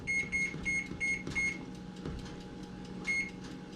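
A series of short, high electronic beeps from a kitchen timer in quick groups, pausing, then one more beep, over a quiet low hum.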